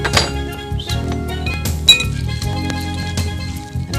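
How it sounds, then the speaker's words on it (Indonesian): Eggs being stirred into a mixture in a bowl for an Indonesian home-cooking dish, with a utensil clinking and tapping steadily against the bowl in a busy, close rhythm. "Kita masukkan telur. Aduk rata telur ini."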